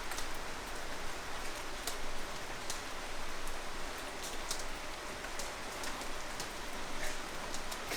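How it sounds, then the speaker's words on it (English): Steady rain patters densely on a surface, with scattered brighter drop ticks over a continuous even wash, moderately loud and unbroken throughout. "I think I can hear all the rain"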